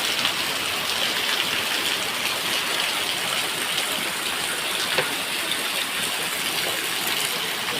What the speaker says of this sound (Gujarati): અત્યારે જુઓ ધોધમાર વરસાદ પડવા મળ્યો છે.